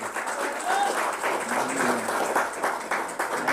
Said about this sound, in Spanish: También le damos un fuerte aplauso también.